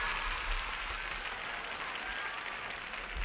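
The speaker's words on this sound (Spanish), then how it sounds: "un aplauso cariñoso para el Kiko," Audience applause on a Chilean Chavo del Ocho stage show from 1977: a dense, steady wash of clapping that fills the whole stretch at even loudness.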